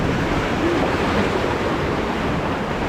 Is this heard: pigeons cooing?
no